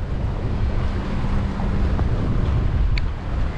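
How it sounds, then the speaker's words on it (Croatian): Jugo wind gusting over Šibenik bay on the Adriatic, a loud continuous roar buffeting the microphone with a faint low engine hum of a boat underneath. "Danas je dosta vjetrovito, čini se da jugo puše."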